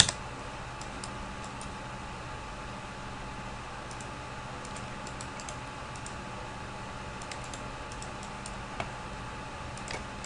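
Quiet, light clicking of keys as a value is typed on a computer keyboard in drafting software, a few soft scattered taps over a low steady background hiss.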